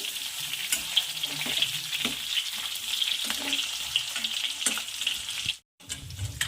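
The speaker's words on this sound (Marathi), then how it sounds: "असं वांग्याला छान असं दाब पडेपर्यंत छान तेलामध्ये असं फिरवत राहायचं" Eggplant fries in hot oil with green chilli masala as it is turned, producing a dense continuous sizzle and crackle close up, with a brief dropout near the end before the frying resumes.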